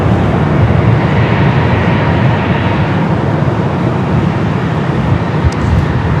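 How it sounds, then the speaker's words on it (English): LATAM Boeing 787-8 Dreamliner jet airliner at Los Angeles International Airport, bound for Santiago, giving a loud, steady broadband engine roar that holds evenly throughout with no talk. "That Latam Dreamliner 787-8 Dreamliner heading to Santiago"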